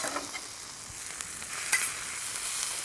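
Entrecote steak sears hard on a hot Feuerplatte griddle plate, a close bright sizzle with a few sharper crackles and spits over a steady frying hiss.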